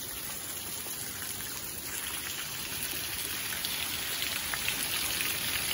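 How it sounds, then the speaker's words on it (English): Steady rain falls outdoors during a cold thunderstorm, a dense, even patter of drops on surfaces that continues without a break and without voices. "Currently raining."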